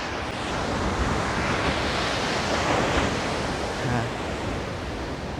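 Ocean surf at Kelingking Beach on Nusa Penida, a steady broad wash of breaking waves mixed with wind rumble on the microphone, continuous throughout with a brief spoken word near the start.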